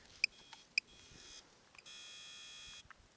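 Two short high electronic beeps from a Code3 Z3 amplifier powering on, followed by a longer sustained tone of about a second, faint against a quiet hiss.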